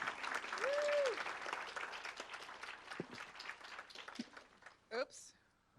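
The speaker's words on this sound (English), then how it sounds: "Can everyone clap for them?" Audience applause for a small staff at a keynote session, moderately loud at first and thinning out over several seconds, with a brief whistle-like tone early on and a few scattered sharper sounds near the end.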